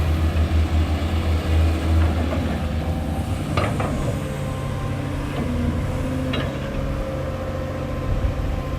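Kobelco SK907 excavator scooping soft sandy soil into a small dump truck, a steady low engine rumble with scraping and a few sharp clanks of the bucket.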